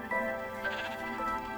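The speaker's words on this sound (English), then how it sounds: "Oh, sheep." Sheep bleating inside a slime-themed video game, several short wavering bleats close up and fairly loud, over a steady bed of game music and background ambience.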